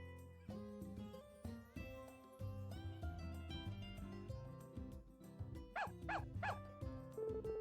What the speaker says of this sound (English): Guess a couple stray dogs settled in here.